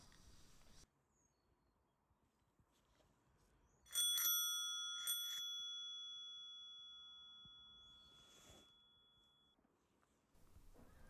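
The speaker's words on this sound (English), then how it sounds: "Simworks bell. I really love the sound it makes." A Simworks bicycle bell rings twice in quick succession, a clear bright metallic chime whose tone lingers and slowly fades over several seconds in a quiet outdoor setting.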